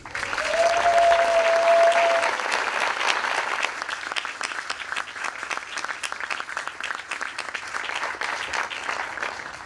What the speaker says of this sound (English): I would just like to give this wonderful group of musicians a cheer.